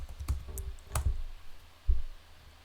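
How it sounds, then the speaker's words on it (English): A few scattered keystrokes on a computer keyboard: sharp clicks and soft knocks in an irregular rhythm, fairly quiet and close, with a duller thump near the end. "you're going to type in Astra"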